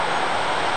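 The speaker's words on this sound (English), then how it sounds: "Any white noise you hear is wind." Outdoor wind buffeting a microphone on a very windy day, a steady broadband rushing roar filling the whole short stretch with no talk.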